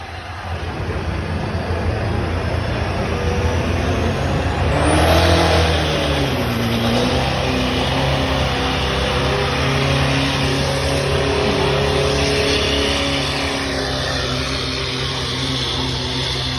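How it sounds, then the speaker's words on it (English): A Duramax diesel pulling truck at a fairground truck pull, its engine wound up hard into a loud, sustained roar that climbs and holds high for the whole pass. "he'll wind up the Duramax pretty tight here"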